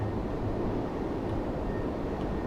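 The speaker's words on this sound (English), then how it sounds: "The train doesn't even sound right, does it not?" A train in the Train Sim World 3 game, on the Edinburgh to Glasgow line, runs with a steady low rumble and broad roar that holds evenly throughout, with no talk over it.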